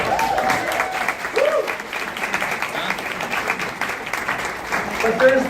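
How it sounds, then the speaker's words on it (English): Audience applause for student first-place winners of a Junior Achievement Company of the Year competition, steady loud clapping from a crowd with faint voices and cheers mixed in, swelling slightly near the end. "Round of applause."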